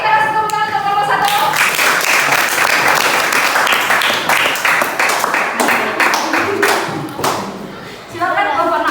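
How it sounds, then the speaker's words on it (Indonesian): Classroom applause for student group 1 at a school lesson: a steady burst of many hands clapping close by, with children's voices chattering underneath, thinning out near the end. "Boleh kita kasih tepuk tangan untuk kelompok 1."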